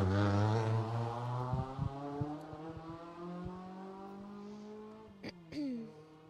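A rally car at the Jersey Rally passes at speed, its engine note climbing through the gears and then dropping, loud at first before fading, with brief knocks and a short squeal near the end.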